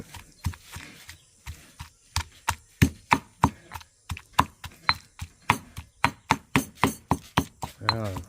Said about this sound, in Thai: ตามพริกตามหอม เรียบร้อยแล้วนะครับ